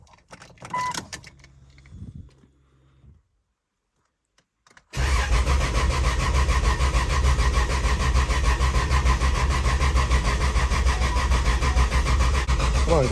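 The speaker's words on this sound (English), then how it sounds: "now we're just gonna get her started" A Jeep engine is started after a few soft clicks and rattles and a moment of silence, catching abruptly and settling into a loud, rough, steady idle that rumbles on without a break.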